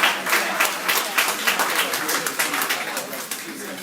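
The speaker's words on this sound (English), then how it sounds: "Big round of applause for them before I start to introduce." Lively applause from an audience at a Three Kings Day parade breakfast ceremony, brisk uneven clapping close by that continues for several seconds and gradually softens.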